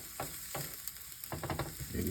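Peppers and onions fry in a pan for home fries, a steady sizzle broken by a few bright clacks and scrapes of a utensil against the pan.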